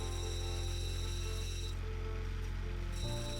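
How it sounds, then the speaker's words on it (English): Opal cutting machine running a 120 grit wheel on a small opal, a continuous low motor hum with a steady whine, changing tone near the end as the stone meets the wheel. "Jumping straight across to the cutting machine, we're starting out on the 120 grit wheel."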